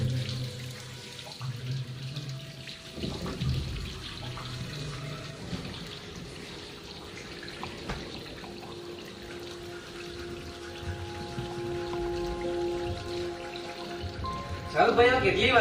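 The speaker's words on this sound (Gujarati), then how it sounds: "તું નળ બંધ કર કાં તો ડબલામાં પાણી લઈ લે યાર" Water gushes from an open tap into a container, a steady splashing rush that runs throughout, with a voice speaking over it and clattering knocks near the end.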